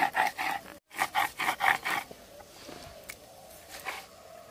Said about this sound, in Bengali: কালো সরিষা, হলুদ সরিষা, সরিষাটা খুব মিহি করে বেটে নেব।